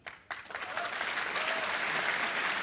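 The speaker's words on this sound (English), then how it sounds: "let's have another round of applause" Audience applause fills a QuakeCon hall celebrating 20 years of id Software, starting abruptly after a brief lull and then holding as a dense, steady roar of clapping from a large crowd.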